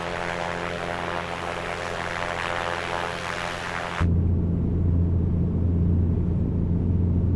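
A simulated Piper Comanche 250 piston engine drones steadily in Microsoft Flight Simulator 2024, then abruptly drops into a deeper, louder propeller hum that continues evenly to the end, with no talking.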